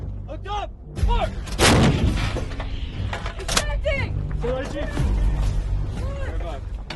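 Artillery guns fire heavy rounds in loud, booming blasts, with shouted crew commands and voices talking between and over the shots.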